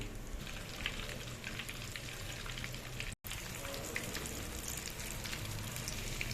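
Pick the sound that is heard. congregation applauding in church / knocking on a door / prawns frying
prawns frying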